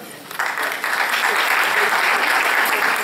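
Audience applause at a Navaratri temple celebration, a steady burst of many hands clapping that swells after a brief softer start and holds loud and dense throughout.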